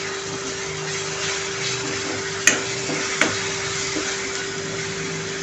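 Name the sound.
ginger-garlic paste frying with onions in a pan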